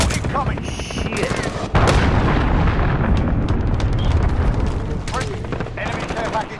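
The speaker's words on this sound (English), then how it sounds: "Enemy cruise missile incoming!" Call of Duty battle with a cruise missile strike, a sudden loud blast that rolls into a dense rumble, mixed with rapid gunfire and scattered voices.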